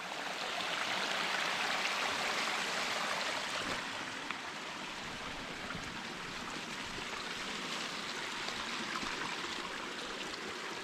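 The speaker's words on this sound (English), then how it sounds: "There's some amount of water running down here." River water runs steadily under a bridge in the Scottish glen of Glen Isla, a constant broadband rush with no breaks, heard fairly close and alone.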